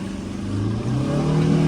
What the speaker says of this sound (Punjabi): ਗੱਡੀ ਕਿੰਨਾ ਲੋਡ ਲੈ ਰਹੀ ਆ